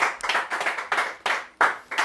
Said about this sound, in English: So a round of applause there, everybody, please.